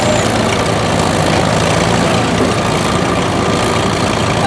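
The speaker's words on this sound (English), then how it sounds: "alright, so we're going to see how far this tractor will pull this box, this weighted box." Antique tractor engine straining as it drags a weighted box at a tractor pull during an old threshers show in Shelbina, Missouri: a loud, steady, low rumbling drone that holds without pause.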